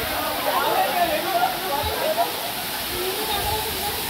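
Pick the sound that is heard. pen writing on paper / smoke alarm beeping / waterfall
waterfall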